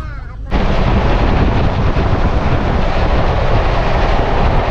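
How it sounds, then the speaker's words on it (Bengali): A South Eastern Railway passenger train pulls in at platform 4 of Uluberia station, a loud continuous roar of wheels and carriages rising abruptly and staying close and heavy throughout. "আমাদের ট্রেন এখন এসে পৌঁছেছে তার যাত্রাপথের 3 নম্বর স্টেশন সাউথ ইস্টার্ন রেলওয়ের উলুবেড়িয়া স্টেশনের 4 নম্বর প্ল্যাটফর্মে"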